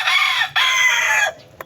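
A gamecock rooster crows loudly and close, two long strained calls in quick succession, with a short pause between them and a faint sound after.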